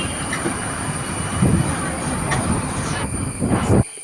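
Train rumble and rolling carriage noise at Payyoli railway station, a small station, with a steady mid-level clatter, brief squeals, a faint voice in the background, and an abrupt cutoff near the end.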